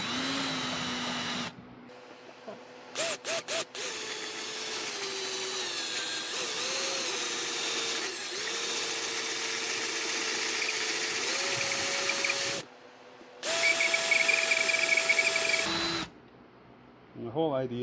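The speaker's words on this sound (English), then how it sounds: "this drill bit is going to finally get in there and catch the metal and make the metal spin" A power drill whines in long steady runs while drilling into metal on a DW3634 pressure washer pump, its pitch shifting as it bites, with brief pauses and a few short bursts; a voice talks intermittently.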